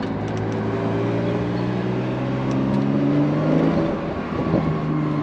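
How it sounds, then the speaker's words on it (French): A Porsche 911 992 Carrera S with a flat-six engine and sport exhaust, a loud, steady engine drone with rising harmonic tones as it revs, slightly dipping near the end, without speech. "option vraiment indispensable sur des 911 qui laisse vraiment libérer ce son du flat 6"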